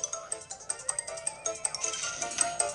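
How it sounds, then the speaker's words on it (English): A cartoon phone's ringtone: a bright, rapid electronic jingle with repeated chiming pulses, fairly loud and continuous for a few seconds, with a faint voice beneath. "My phone's going off!"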